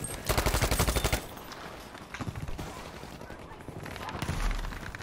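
Close M1928A1 submachine gun fire sounds in Battlefield V on the Hamada Conquest map, with a rapid rattling burst, a shorter burst later, and a final volley over game noise and a player's voice.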